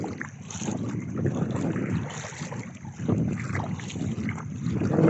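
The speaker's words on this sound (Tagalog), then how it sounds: "Yung bangka ng pinsan ko." A small boat moves across open water at a beach outing, with a steady wash of water and engine rumble mixed with strong wind buffeting the microphone throughout, continuous and fairly loud.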